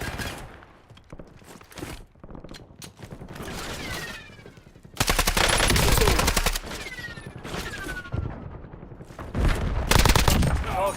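Rapid bursts of gunfire in a shooter video game, with a dense, sustained volley in the middle and more bursts near the end. Quieter stretches of scattered shots and game noise sit between the volleys.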